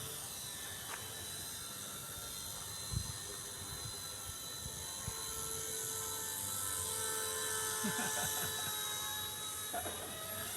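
An RC ERA Bell 206 model helicopter flies at Filinvest, its steady high-pitched whine and rotor hum running continuously, with a few clicks and knocks nearby and no talking.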